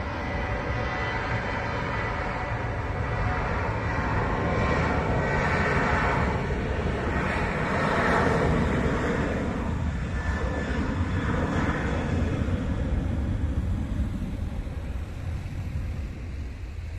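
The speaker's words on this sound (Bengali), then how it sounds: "হযরত শাহজালাল আন্তর্জাতিক বিমানবন্দরের রানওয়ে থেকে এখনই উড্ডয়ন করে যাবে বোয়িং 737 মডেলের তিয়ানজিয়ান এয়ার কার্গো।" A Tianjin Air Cargo Boeing 737 takes off from the runway at Hazrat Shahjalal International Airport in Dhaka, its engines a loud, steady, broad roar that holds for the whole stretch without pause.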